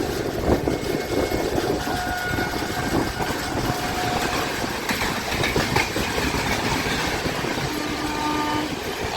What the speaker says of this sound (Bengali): সামনে থেকে আসছে পুরী জগন্নাথ এক্সপ্রেস।